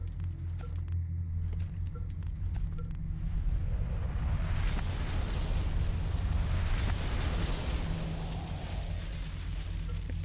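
Buildings being demolished in The Universim, a few light clicks giving way to a broad, sustained crumbling rumble with scattered bursts that builds and lingers for several seconds.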